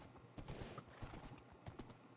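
Horse hooves clip-clopping in a survival video game, a quiet uneven run of muffled footfalls close by.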